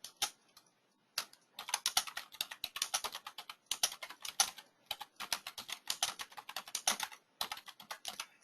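Fingers tap quickly on a computer keyboard in short bursts with brief pauses, close and crisp in a quiet room with no talking.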